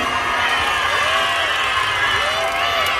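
A large crowd at a fair stage show in Mexico roars and cheers continuously, with shouts and a few whistles rising above a steady wash of noise.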